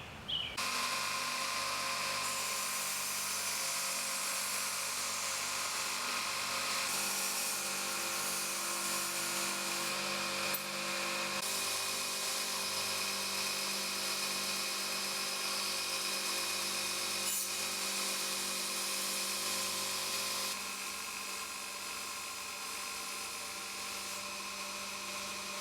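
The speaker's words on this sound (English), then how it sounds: "I'm going to start thinning out the blade and polishing it up to a 400 grit cork belt" Belt grinder running a 400 grit cork belt loaded with green polishing compound against a knife blade, a continuous steady motor hum and belt whine with subtle shifts in pitch as pressure changes.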